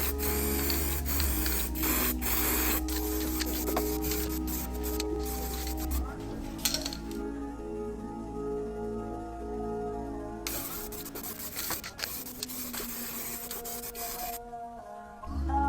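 A steady hiss of spray paint on a Mitsubishi Evo 8 runs close up, pausing briefly and resuming, with a low background hum and no voices.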